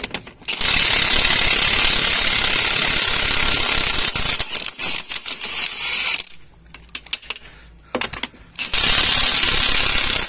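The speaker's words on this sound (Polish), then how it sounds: "Ja używam Milwaukee, bardzo dobra firma, bardzo dobre klucze." Worn Milwaukee impact wrench with a 32 socket loosening wheel nuts on a Kraz 255 B1 military truck, loud sustained hammering bursts broken by short gaps and a quieter pause, close to the microphone.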